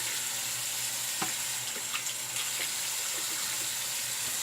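A shaving brush rinsed under a running tap, with a steady close rush of water and a few faint knocks, and no voices.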